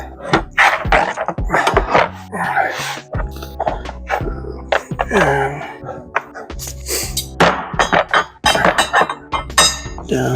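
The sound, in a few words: placing wrenches onto a Toolgrid toolbox drawer organizer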